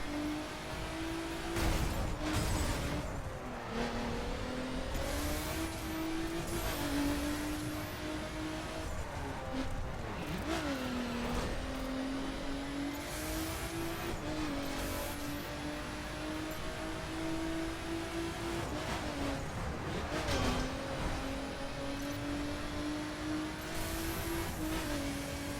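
A Nissan GT-R R35 in the racing game The Crew drives hard, its engine droning and revving up and down through gear changes and cornering, loud and continuous with brief bursts of tire and impact noise.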